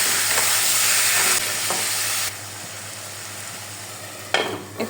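Chicken being mixed in a pan with ginger-garlic paste, cumin and garam masala paste, tomato pieces and salt: a loud sizzle and scraping stir that drops in level midway, then quieter frying with a few clattering spoon strokes near the end.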